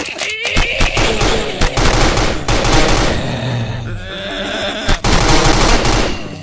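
Rapid automatic gunfire from an offline Android shooter game rattles in loud, dense bursts, with brief gaps between volleys and no talking.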